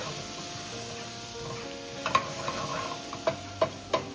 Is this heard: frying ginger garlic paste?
yes